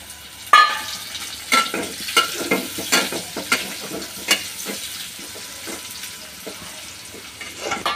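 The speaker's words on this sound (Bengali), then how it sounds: "এবার আমি পেঁয়াজগুলো একটু ব্রেস্তের মতো লাল লাল করে নেব।" Chopped onions fry and sizzle in a pan for fish fry, with repeated stirring scrapes and bursts punctuating a steady close-up hiss.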